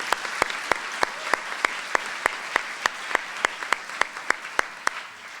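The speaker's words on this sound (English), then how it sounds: "Another round of applause" A crowd applauds at a Berkeley-Columbia Executive MBA commencement ceremony for the Class of 2011, its claps landing in a steady, evenly spaced rhythm over a noisy hall.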